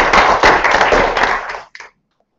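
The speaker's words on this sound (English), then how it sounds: "So round of applause for coming down." Audience at a Philly.rb Ruby meetup in August 2014 claps for an arriving speaker, a dense burst of applause that thins out and stops after about a second and a half, followed by a brief tap.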